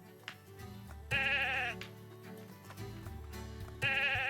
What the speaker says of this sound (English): So there's a handling score on these sheep.